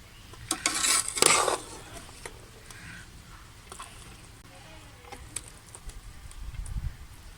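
Chicken biryani spooned onto a plate: a few soft scrapes and light clinks of a serving spoon against dishware near the start, then quiet, with faint low rumble later.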